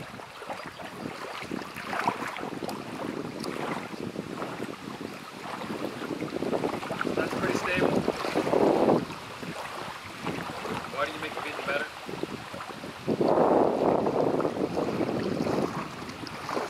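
Wind gusts buffet the microphone beside a folding canoe on open water, a rough, rushing roar that swells and fades in surges, close and loud throughout.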